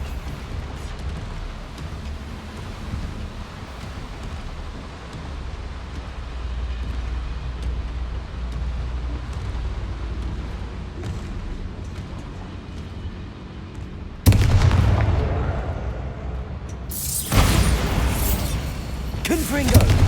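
Bombarda blasting spell explosion in Hogwarts Legacy, a sudden loud burst that cuts through a rumbling game background and is followed by a second blast, with game voices heard earlier.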